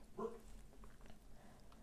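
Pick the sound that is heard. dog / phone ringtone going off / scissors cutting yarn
dog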